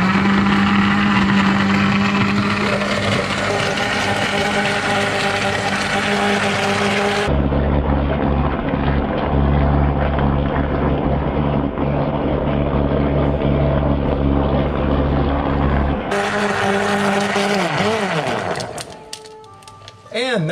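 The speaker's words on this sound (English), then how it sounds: "Now, I'll blend it up, we'll try it" A blender cranks through a chai concentrate drink with vanilla protein, a loud steady motor whir that shifts pitch midway as the load changes, running continuously for most of the stretch before cutting off near the end.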